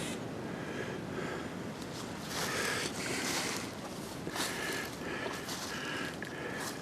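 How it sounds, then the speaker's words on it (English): Fast-flowing creek water in the woods rushes and churns in a loud, continuous broadband wash with slight surges, close to the microphone, with no voices. "This creek really gets going."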